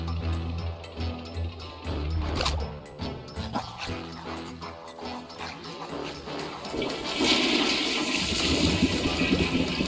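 In the video game I Am Fish, water rushes and fills up, growing from scattered splashy sounds into a louder, continuous gushing wash in the second half.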